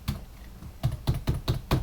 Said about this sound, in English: Now I'm holding down shift and using the arrow keys to select that.